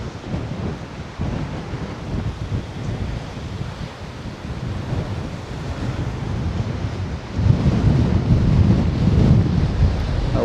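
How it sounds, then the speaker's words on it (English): Strong wind buffets the microphone on an exposed volcanic island coast at Costa Teguise, with ocean surf rumbling and washing continuously beneath, growing louder toward the end. "The wind has got up because I'm exposed now."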